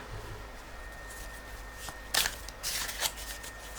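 Tarot cards shuffled and a card pulled from the deck, a couple of quick riffling bursts close by against a quiet background hum.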